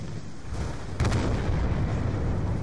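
Explosions from the final mission of Call of Duty Black Ops 2, rumbling continuously with a loud heavy boom bursting in about a second in and rolling on, with no talk.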